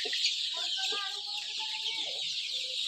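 Young poultry chicks cheep and cluck continuously inside a shed, several birds calling at once, close and clear over a steady background hiss.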